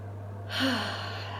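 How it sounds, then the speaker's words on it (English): A single deep inhaled breath rises about halfway through, a soft airy gasp over a quiet steady background hum. "Take a deep breath."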